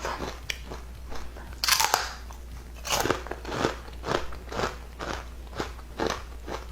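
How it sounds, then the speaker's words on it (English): Someone bites into and chews crispy homemade chips, producing loud, sharp crunches and several repeated chewing crackles at a steady rhythm, close to the mic, with no talking. "As you can hear, they have a great big crunch."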